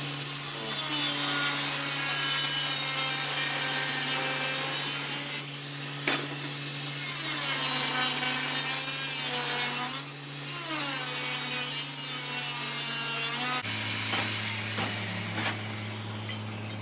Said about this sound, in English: So I'm going to go ahead and just use the angle grinder. I'm going to cut this in half